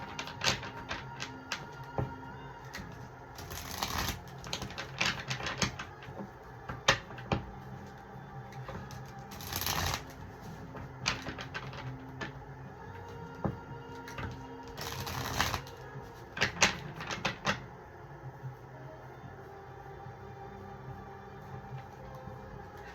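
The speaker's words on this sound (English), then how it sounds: "Get a good shuffle here" Repeated riffling bursts of playing cards being shuffled, close and crisp, several quick shuffles spread across the stretch with soft handling noises in between.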